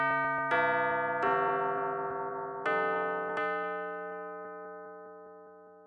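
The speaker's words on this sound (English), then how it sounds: "I have this bell part." Bright bell tones strike one after another in a slow melodic line, each ringing out and decaying, alone without other instruments.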